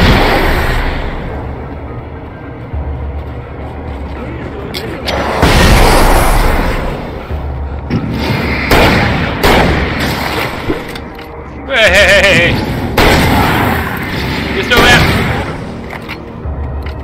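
Flashbang blasts and shotgun fire ring out in the Alan Wake video game, a few loud booming bursts spread over a rumbling, noisy background.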